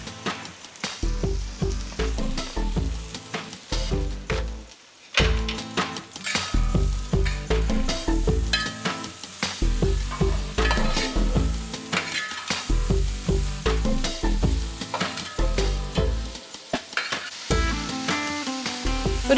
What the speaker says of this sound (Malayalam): ചുവന്നുള്ളി, സവാളയും നമുക്കിട്ട് കൊടുക്കാം.